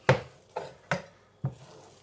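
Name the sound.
knife edge flattening bacon rashers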